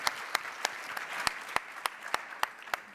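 A conference audience applauds a talk, a steady wash of clapping from many hands that carries on evenly for a few seconds, backed by faint sharp knocks at a regular pulse.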